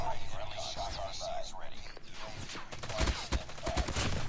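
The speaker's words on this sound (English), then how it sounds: "UAV, let me shoot it down real quick." In a first-person shooter, a light machine gun fires at a UAV in the sky, rapid loud bursts of automatic gunfire dominating the second half with sharp cracks, while a voice talks just beforehand.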